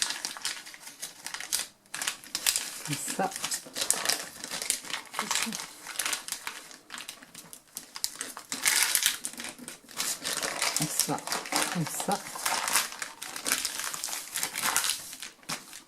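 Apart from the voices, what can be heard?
folding a sheet of paper into a party hat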